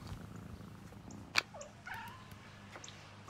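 A cat in a Sheba cat food commercial purrs softly in a low, steady rumble, with a sharp click and a few faint chirps over the quiet purr.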